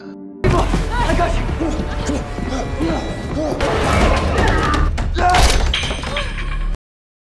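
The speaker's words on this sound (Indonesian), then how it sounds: "Eden menghancurkan gagang pintu dengan pemukulnya" A bat smashes a door handle in a horror setting, with loud heavy whacks and crashes over a dense, continuous noisy scene, while voices are heard amid the din.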